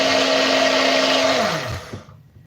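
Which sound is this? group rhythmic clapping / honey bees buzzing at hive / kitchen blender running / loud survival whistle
kitchen blender running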